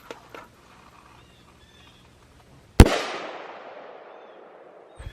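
A rifle fires a single .223 green-tip armor-piercing round at a padlock. The shot is one sharp, loud crack that decays over about a second and a half, with faint small knocks before it and a brief thump at the end.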